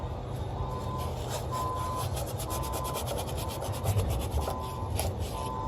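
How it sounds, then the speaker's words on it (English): Sand cloth rubbed over copper pipe before soldering for an HVAC/R extension, a continuous rapid scratchy rasping with steady back-and-forth strokes, close and fairly loud throughout, with no talk. "Make sure you're sanding your copper"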